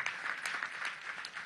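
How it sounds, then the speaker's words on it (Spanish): An audience at a Venezuelan government housing handover event applauds the national armed forces, with dense, steady hand clapping of moderate loudness that continues unbroken throughout. "Un gran aplauso a nuestra amada Fuerza Armada Nacional Bolivariana"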